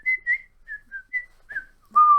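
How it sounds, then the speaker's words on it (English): Melodic whistling from the World to the West game soundtrack plays alone, a short run of clear, bright notes with small gaps, ending on a longer, lower held tone. "we also have a lot of whistling"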